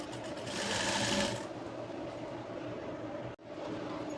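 Elastic on a jumpsuit is stitched by a sewing machine running steadily for about four seconds, a close continuous whir with one brief dropout near the end.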